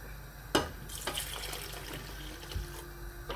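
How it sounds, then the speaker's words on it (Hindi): Water poured from a glass into a pan of Lahori-style prawn karahi curry, a faint continuous splash and trickle with a couple of brief clinks, no talking. "तो इसमें पानी ऐड करेंगे"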